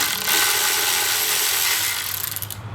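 A socket ratchet works a bolt free on the alternator of a 2005 Subaru Legacy, a close, continuous rasping click run that tapers into a few separate clicks at the end, with no talk.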